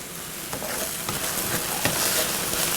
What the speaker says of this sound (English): onions cooking away